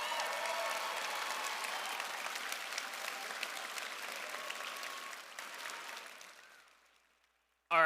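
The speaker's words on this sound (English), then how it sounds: "One more round of applause for Nathan and all the volunteers that make this possible." Audience applause at a FIRST robotics district championship event, a large crowd clapping steadily at a distance in a big hall, then fading out to silence.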